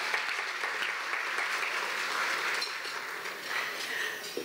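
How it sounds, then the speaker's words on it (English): An audience applauds at a business quality awards event, a steady wash of clapping that stays moderately loud and a little distant from start to finish. "I hear some clapping."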